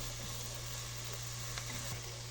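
Tuscan sausage, onion and garlic sauté in a pan with a soft, steady sizzle and faint frying crackle, heard briefly and quietly over a low background hum.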